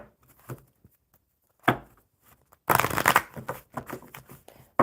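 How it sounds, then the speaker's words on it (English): Tarot cards being shuffled by hand in quick, close bursts: a short riffle, then a longer run of dense papery flutters and slaps, with quiet gaps between. "One more shuffle."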